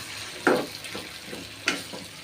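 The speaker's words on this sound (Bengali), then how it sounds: "আলু একটু কষাই নেবো আলুর সাথে" Potatoes are being stir-fried in a pan for a Bengali home-cooked meal, with a low steady sizzle and two louder scraping stirs of a spatula, and no voices.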